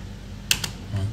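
A few quick keystrokes on a computer keyboard while entering a command in AutoCAD, two or three close, light clicks in a short burst over a low background hum.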